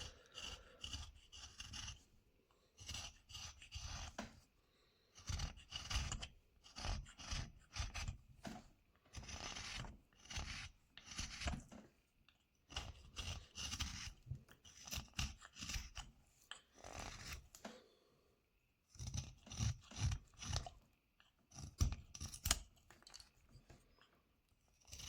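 A hand carving tool shaves bandsaw marks off a wooden hobbit figure being whittled, making quiet, close rasping and scraping strokes in quick bursts separated by short pauses.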